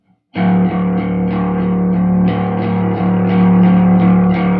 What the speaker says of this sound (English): I'm going to drive it a little harder so we can hear it with some drive